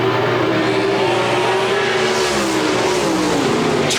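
Several 360 sprint cars roar around Park Jefferson Speedway in a heat race at the Pepsi South Dakota Sprint Car Nationals, a loud, continuous engine drone that rises and falls in pitch as the pack passes.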